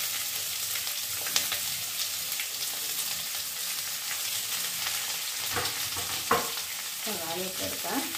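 Onions go into oil with cloves, cinnamon and other whole biryani spices for a chicken curry, giving a soft steady sizzle under occasional spoon clinks and stirring scrapes near the end.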